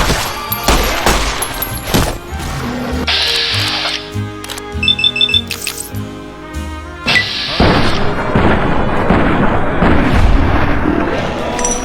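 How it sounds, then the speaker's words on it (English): Gunfire and explosions from the video game Fallout New Vegas, loud and dense, with rapid shot bursts, booming impacts and electronic tones, set against a constant game soundscape. "Who are you shooting at, Eddie?"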